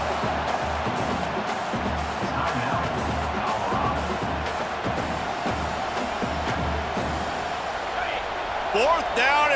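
A steady roar from a packed stadium crowd in the College Football 25 video game, loud and continuous throughout, with a commentator talking over the noise.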